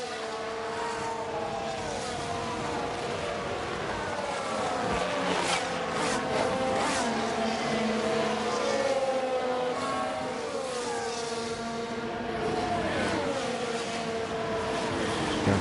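Formula 1 race cars in F1 Manager 23 roaring past, high engine whines sweeping up and down in pitch as several cars accelerate and shift, loud and continuous with no talk.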